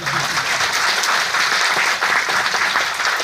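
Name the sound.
loud clapping by audience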